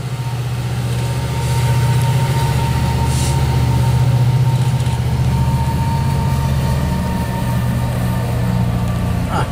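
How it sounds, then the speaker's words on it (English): A passing freight train with a Missouri Pacific car and a remote-controlled locomotive, giving a steady, loud rumble of rolling cars that swells slightly midway and carries on without a break. "Yeah, there's that Missouri Pacific car right there."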